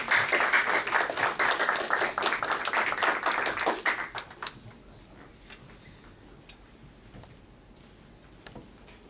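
Audience applause at a live stage event as performers are invited on, a dense burst of clapping for about four seconds that quickly thins out and fades into quiet room tone.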